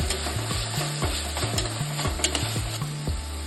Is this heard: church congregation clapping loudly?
no